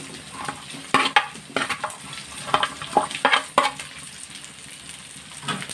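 Four sliced onions sauté in oil with ginger-garlic paste and curry leaves for a goat botti gravy. A steady close sizzle runs under irregular spatula scrapes and clinks against the pan, with the clicks clustered early and then thinning out.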